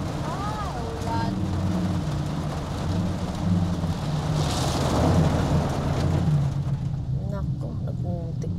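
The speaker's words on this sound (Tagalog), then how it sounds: "Ulan." Steady rain hiss fills the scene in Manila traffic, heard from inside a delivery driver's vehicle as a constant wash under engine rumble and a few faint voice-like sounds.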